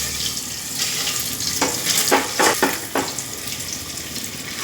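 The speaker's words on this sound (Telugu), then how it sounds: "ఎగ్స్ బాగా ఫ్రై అయిపోయింది." Eggs frying in a pan over lowered heat, a continuous crackling sizzle with a few sharper spatter bursts near the middle, close and fairly loud, no voices.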